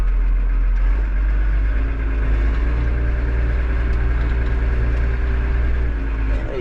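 A farm tractor idles close by with a steady low rumble and constant engine hum throughout, no voices over it.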